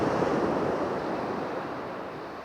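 Sea waves wash onto the shingle of Chesil Beach in the UK, a steady broad surf roar that fades gently over a few seconds, with wind noise on the microphone and no talking.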